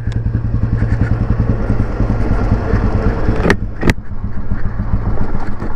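A 2004 Royal Enfield motorcycle, old model after full restoration, runs with a steady thumping engine beat close by, with two sharp clacks partway through.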